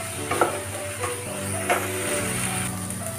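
Chicken filling sizzles steadily while frying in a pan, with a spoon scraping and stirring in a few distinct strokes over the continuous crackle.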